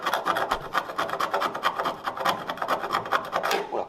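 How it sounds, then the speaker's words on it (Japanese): Light scraping of surface rust from the sheet-metal floor of a Mazda RX-7 FD3S under restoration, a close, steady rasping rub in quick repeated strokes. "こうやって軽く削ったらサビが落ちるから"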